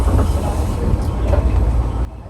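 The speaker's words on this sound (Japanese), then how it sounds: "八幡前駅で列車同士の行き違いです" A Nankai train runs steadily near Hachimanmae station, where trains pass each other. The loud, continuous rumble of rolling wheels and motors carries throughout, then drops off sharply near the end.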